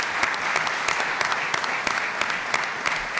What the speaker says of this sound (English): Can we please have a round of applause for those folks?